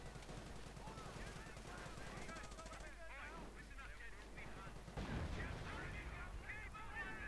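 Artillery blasts and machine-gun fire from a Battle of Crete mod battle at the Heraklion airfield, continuous distant rattling bursts with a louder burst near the end, under players talking.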